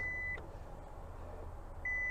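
A steady electronic warning beep from a 2022 Lexus LX600 sounds twice while the rear seats fold down, once at the start and again near the end, with quiet mechanical background between.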